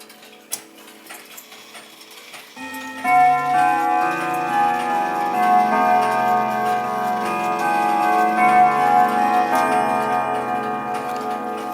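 A Ridgeway grandfather clock plays its St. Michael's chime, a bright sequence of ringing tones that starts after a couple of seconds of quiet ticking and then sustains with overlapping, decaying notes, clear and close.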